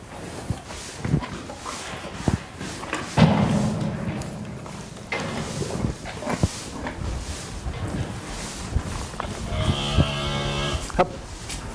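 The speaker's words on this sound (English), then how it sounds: "There's a cow on heat out there" A cow on heat lowing repeatedly on a farm, a loud long moo near the start followed by further calls, with thumps and shuffling of livestock around.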